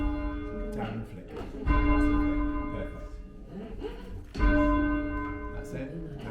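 A church tower bell rung by rope, two loud resonant strikes with long ringing decays, and people talking over it.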